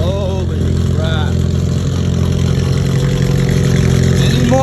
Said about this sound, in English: backing out my car real quick